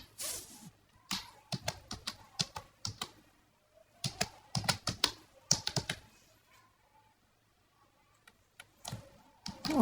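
Computer keyboard typing a file name, bursts of quick close key clicks in uneven runs with short pauses between them, no voice over the keys.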